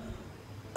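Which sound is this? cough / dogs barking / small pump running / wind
cough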